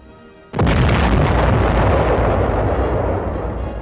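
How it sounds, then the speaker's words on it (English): A huge artillery gun fires once with a sudden, massive boom, followed by a long, loud rumbling roar that slowly fades over several seconds. "And she's ready to fire. The great gun, the biggest of them all."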